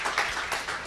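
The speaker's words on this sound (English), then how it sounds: "applause." Audience applause at a forum event on generative AI and media literacy: a brief, steady burst of many hands clapping in a hall, no voices.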